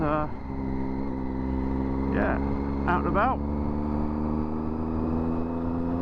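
Idling motorcycle engine, warming up to circulate its fluids and charge the battery after months off the road, a steady low drone throughout with someone talking briefly over it.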